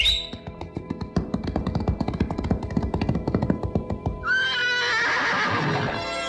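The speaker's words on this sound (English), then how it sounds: "There we found a beautiful black stallion." A black stallion neighs in a remote valley near a rancho. Loud clip-clopping hooves come first, then a long, shrill whinny that rises and trembles close by.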